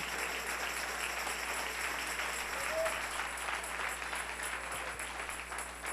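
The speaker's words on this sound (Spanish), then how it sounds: "Dele ese aplauso al Señor." A church congregation applauding, dense steady clapping from many hands filling the room throughout, loud and even with a faint voice briefly emerging.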